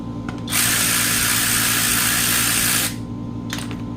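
A ratchet wrench spins a bolt out of the cover on a 1958 Farmall 450 gas tractor, giving a steady whirring burst of rapid clicking for about two seconds, with brief quieter clicks before and after.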